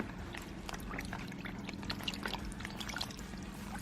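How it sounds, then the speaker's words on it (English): Water pours and trickles steadily into a basin to wet a hemp face mask, a close continuous splashing with no talk. "So I'm just going to go ahead and wet the mask in here."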